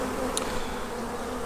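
Honeybees buzzing in an opened, queenless hive colony, a dense steady hum close by with a brief louder wingbeat passing near.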